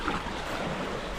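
Ocean waves washing over a rocky shore, a broad steady rush of water and surf with a low rumble, fairly faint and continuous through a short moment.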